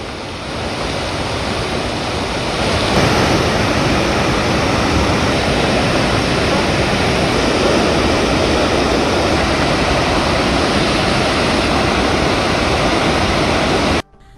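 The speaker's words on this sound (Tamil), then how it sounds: "தாமிரபரணி ஆற்றில் வெள்ளப்பெருக்கு ஏற்பட்டுள்ளது" The flooding Thamirabarani river in Tamil Nadu rushes with a loud, steady, roaring wash of water that continues unbroken throughout, with no voices heard.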